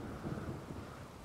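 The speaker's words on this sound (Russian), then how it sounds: "тут дождь почему-то идет" Steady rain in The Witcher 3 fills the scene with a dense, continuous wash, a low rumbling roar like a downpour with distant thunder, loud and unbroken for the whole moment.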